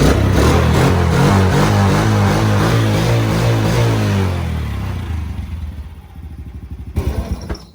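Small Honda TRX90 ATV engine, warmed up after a carburetor clean, revs hard and close with throttle blips, then drops back to a lumpy idle before a final short rev.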